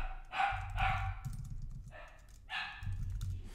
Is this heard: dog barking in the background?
yes